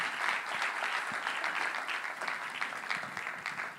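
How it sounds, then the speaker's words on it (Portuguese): A church congregation applauds, a dense sustained burst of many hands clapping in a large room, steady then slightly fading, with no voices over it. "Pode dar uma salva de palmas a Jesus."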